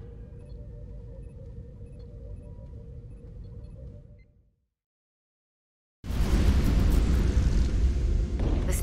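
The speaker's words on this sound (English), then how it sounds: "The storm is getting worse." Deep, steady storm rumble fills a starship scene in the video game Star Trek Resurgence, cutting to near silence midway before returning louder and harsher with broadband roaring noise.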